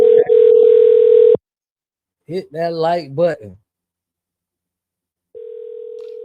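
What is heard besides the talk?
telephone call ringing out unanswered on a live show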